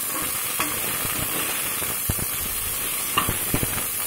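Cauliflower frying in a pan, a steady hissing sizzle broken by occasional sharp crackles and pops, close and alone.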